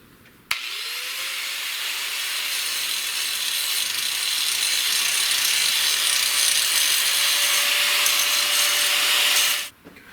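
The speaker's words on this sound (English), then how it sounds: "I'm gonna grab the grinder, hit a couple of these things that I know will get in the way" Angle grinder cutting metal car rear strut parts for a lift extension, a steady loud high-pitched grinding hiss running continuously for about nine seconds after a sharp start, then stopping abruptly, nearby and alone.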